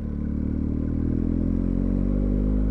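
A BMW R1250 GS motorcycle engine runs steadily and loudly up close during a gear change on a narrow, twisting ridge road, a constant low drone with no clear pause.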